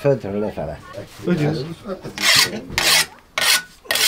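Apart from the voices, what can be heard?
whetstone sharpening a scythe blade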